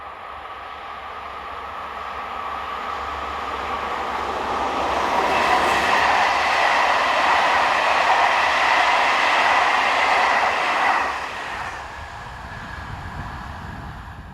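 French locomotive 7321, in red and yellow livery, hauls the southbound Paris to Lyon train past on the Mâcon to Chalon-sur-Saône main line, its rumble swelling to a loud peak and then fading.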